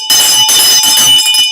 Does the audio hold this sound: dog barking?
no